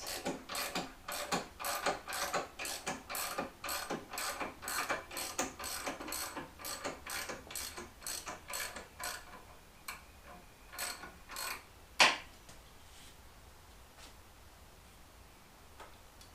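A ratcheting lift lowers a Honda CX500 tracker motorcycle, giving a long, even series of close mechanical clicks. The clicks thin out, then one sharp clank sounds before quiet.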